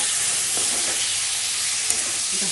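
Fish sizzling and frying in hot oil in a pan for a Bengali babla fish curry, a steady dense hiss with faint stirring clinks, close and alone without talk.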